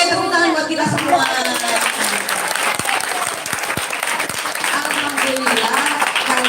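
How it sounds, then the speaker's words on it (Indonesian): Schoolchildren clap together at an anti-bullying session in an elementary school, a dense, steady burst of applause that carries evenly throughout, with some voices mixed into the clapping. "Oke, tepuk tangan buat kita semua."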